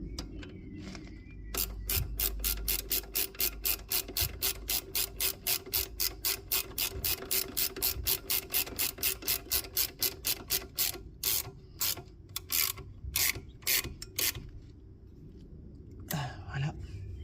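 Ratchet wrench tightening a 13 mm bolt on the front brakes of a Renault Clio 2, a fast run of close, crisp clicks in steady rhythm, slowing into spaced bursts near the end.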